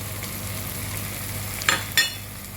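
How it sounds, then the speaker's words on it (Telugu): Onions frying in a pan for a dhaba-style egg masala curry, a steady sizzle with two short scrapes of a spoon stirring in the masala spices near the end, close and alone. "ఒక నిమిషం ఉల్లగడ్డ వేగినాక మనం ఇప్పుడు ఈ మసాలాలన్నీ వేసుకుందామండి"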